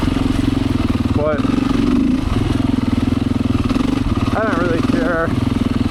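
Beta 500 motorcycle engine idling with a steady, close, throbbing rumble, running continuously under a voice as he talks.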